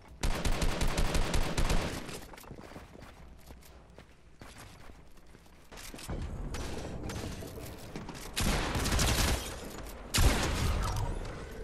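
Rapid automatic gunfire from the Fortnite Mobile game cracks in fast repeated bursts, with a tight volley at the start and denser, louder shooting later, all with no talk.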